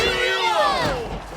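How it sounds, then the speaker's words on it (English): A crowd cheers in Genshin Impact, a loud, swelling roar of many voices lasting just over a second, with whistling, falling tones above it. "Hear that? Exhilarating cheers of the crowd."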